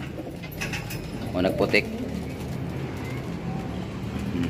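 Pigeons coo in a few soft, low bursts close by over steady outdoor background noise, with someone speaking briefly nearby.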